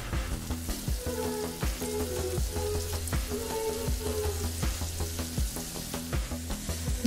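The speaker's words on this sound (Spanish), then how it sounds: "aquí cociéndose las rajas" Poblano pepper strips (rajas) sizzle and crackle steadily in a pan, with rhythmic scraping and stirring taps recurring over the continuous frying hiss.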